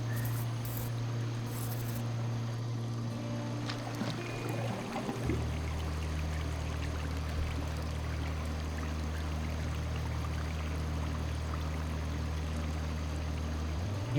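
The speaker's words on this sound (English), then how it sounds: "Watching a little stream of water converge and flow into a large body of water like the Kentucky River" A small stream of water runs steadily into the Kentucky River, a continuous outdoor flow of trickling water. Insects chirp throughout, and a low hum sits under the scene.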